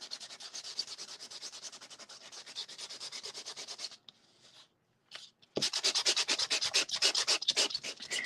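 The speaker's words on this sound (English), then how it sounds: "So let's give this a sand right down to the" Tim Holtz dyed craft paper being sanded down to its colored core gives close, rapid rhythmic scratchy rubbing strokes, broken by a brief pause before more vigorous sanding resumes.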